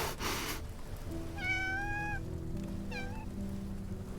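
A cat in the Love and Deepspace video game gives two clear meows, a long drawn-out one and then a shorter one, over a soft steady background hum.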